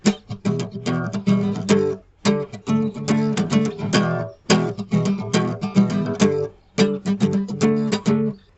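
A guitar strums the same set of chords in a choppier, rhythmic style, with clusters of quick strokes broken by brief pauses, close-miked and alone.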